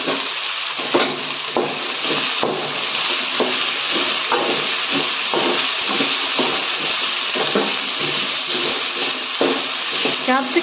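Capsicum sautés in a pan with fried ginger-garlic paste, giving a steady close sizzle and hiss. Repeated scraping and stirring clicks from a spoon against the pan run through it.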